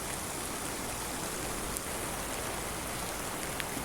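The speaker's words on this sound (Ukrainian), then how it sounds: "Буквально півтори години дощу" Heavy evening downpour in the Carpathian mountains near the Cheremosh river makes a dense, unbroken hiss with no voices, steady and even throughout.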